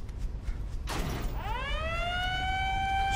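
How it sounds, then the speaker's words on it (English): Alarm siren in Resident Evil Revelations 2 after a lever is pulled: a mechanical clunk followed by a rising, wailing siren tone that swells and holds, loud over a game ambience. "I hate that siren."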